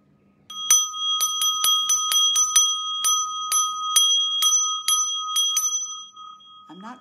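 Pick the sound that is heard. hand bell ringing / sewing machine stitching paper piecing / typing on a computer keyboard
hand bell ringing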